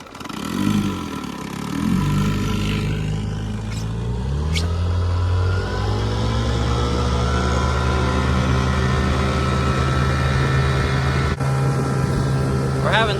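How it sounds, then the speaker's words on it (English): Outboard motor running on a canoe on Jim Creek in the Alaskan wilderness, with weeds fouling it: a steady, close engine drone whose pitch shifts at first and then settles into an even hum for the rest. "We're having trouble with weeds getting in the motor and it's wanting to clog it up."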